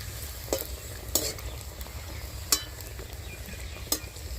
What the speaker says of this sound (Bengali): পিঠেগুলোকে একদম লাল লাল করে ভেজে নেব।